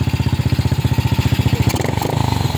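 A Honda XRM 110 motorcycle engine, just kick-started after failing to run, idles steadily with a fast, even mid-pitched putter at close range, then dips briefly and recovers near the end.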